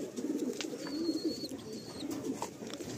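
A Madrasi pigeon of a tournament flying breed coos in low, throaty, repeated rolls, steady and close, with a faint thin whistle-like tone above and no talking.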